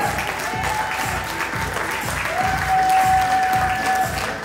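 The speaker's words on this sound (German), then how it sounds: "Und einen großen Applaus für die Newcomer." Sustained crowd applause from the audience at a NABBA Austrian Open 2023 bodybuilding show, greeting the men's newcomers class; steady, dense clapping over a faint tonal background hum for the whole stretch.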